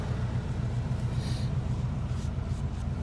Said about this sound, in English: Actually has dual exhaust, but it is the quietest dual exhaust